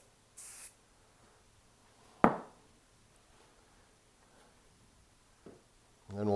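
A short hiss of CA glue activator sprayed onto wood during a scabbard repair, one brief burst near the start amid quiet surroundings, followed later by a few faint knocks.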